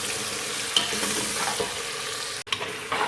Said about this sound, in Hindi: अच्छे तरीके से मसाले को भून लेंगे।